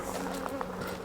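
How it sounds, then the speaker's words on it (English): Honeybees in a beehive super above a clearer board, a close, steady buzzing drone that carries no gaps, with several individual bees whining past. "the bees will go down through the clearer board"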